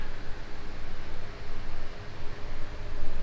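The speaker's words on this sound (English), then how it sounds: "Excuse the fan noise" Steady broadband whoosh of an electric fan running close by in a home workshop just after welding on a 1967 Mustang convertible, a continuous even noise with no voices.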